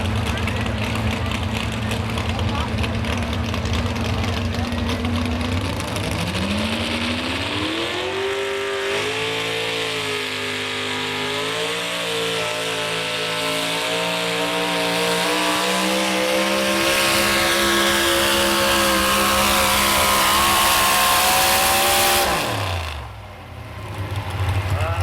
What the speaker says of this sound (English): Correction, this is the Chevrolet engine.